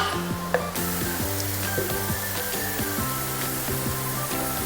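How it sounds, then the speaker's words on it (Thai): Seasoning stirred into a large pot of pork belly and bamboo shoots sizzles and hisses steadily, with faint scraping from the stirring under a constant frying sound. "คนให้เครื่องปรุงมันเข้ากันด้วยค่ะ"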